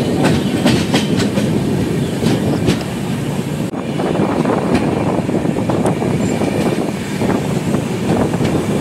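The Tinsukia to Bengaluru Express runs through a small station without stopping, with a loud, continuous rumble and rhythmic clickety-clack of wheels on rails heard close from on board, plus wind buffeting.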